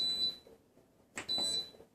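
Electronic beeps from an Instant Pot pressure cooker as its custom button is pressed, two short high-pitched tones separated by a pause, close and clear with faint background noise.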